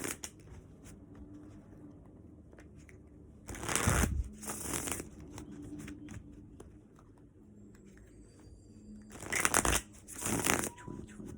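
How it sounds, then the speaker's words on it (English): Tarot cards are shuffled by hand in two short, papery riffling bursts separated by several seconds of quiet room tone, fairly faint and without speech. "Just shuffle until it feels comfortable."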